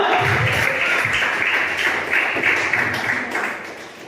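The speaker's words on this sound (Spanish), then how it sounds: "Denle un fuerte aplauso a Cristo." A church congregation at a Spanish-language sermon breaks into loud, dense clapping, a thick continuous roar of hands that tapers slightly toward the end, with faint low voices underneath.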